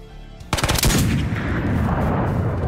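Loud burst of rapid automatic gunfire in the video game Ghosts of Tabor, a dense volley of shots lasting about half a second, then a lingering echoing rumble that fills the rest.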